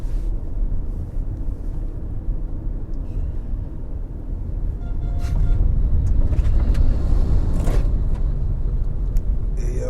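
Traffic on a mountainside road in Claremont Park, St. Elizabeth, Jamaica, with trucks moving at speed: a steady rumble of passing engines that grows louder and closer about halfway through, with no talk.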